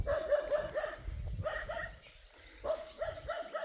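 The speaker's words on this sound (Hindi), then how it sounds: "ब्लैकी लगातार भौंक रही है" A dog barks repeatedly in short bursts, fairly close, with pauses between the volleys and faint high bird chirps in the background.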